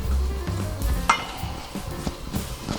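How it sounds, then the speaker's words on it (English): Grated carrots are stirred in a hot, dry pan, giving a quick run of scraping and soft sizzling with a couple of sharper utensil scrapes against the pan. "So just keep stirring as often as you can."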